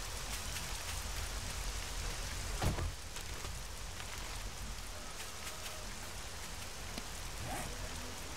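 Steady rain in a video game, a dense continuous hiss of drops falling evenly throughout, with one faint low rumble partway through.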